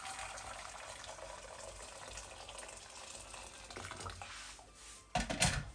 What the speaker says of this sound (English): I'm gonna put my boiling hot water